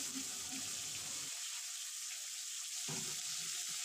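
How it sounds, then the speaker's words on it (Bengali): Pointed gourd (potol) frying in a pan over medium to low heat, a soft continuous sizzle with quieter stretches, faint and close. "মিডিয়াম টু লো আঁচে পটলগুলো উল্টে পাল্টে ভেজে নেব।"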